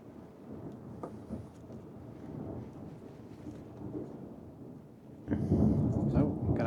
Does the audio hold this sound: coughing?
no